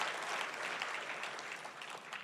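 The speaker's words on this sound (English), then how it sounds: "A round of applause for Doug, please." An audience applauding a local filmmaker at an anniversary evening event, a soft, even patter of clapping heard at a distance and fairly faint, holding steady throughout.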